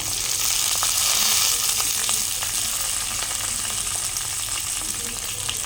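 Onion, green chili, mustard seeds and cumin frying in a pan for an ivy gourd stir-fry, a steady loud sizzle with scattered light clicks of stirring throughout, no voices.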